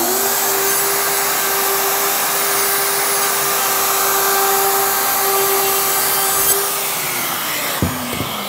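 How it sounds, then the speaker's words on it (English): A router fitted with a slot cutter grooves a PVC shower panel in a van conversion, giving a loud, steady high whine with a rushing cutting noise, then spinning down, followed by a few clunks. "I'm gonna use a slot cutter in another router"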